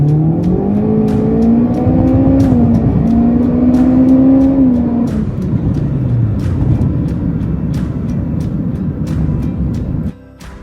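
A 2018 Honda Accord LX fitted with a PRL stage 1 intake and Ktuner stage 2 accelerates hard from a standstill toward 60 mph, its engine note rising loud and close through upshifts, with sharp clicks over the drone.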